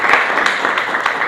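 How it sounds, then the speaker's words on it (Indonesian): Applause in a classroom for a student named Lydia during a teaching practice lesson, a steady dense patter of clapping that runs for a moment at close range. "beri applause untuk Lydia"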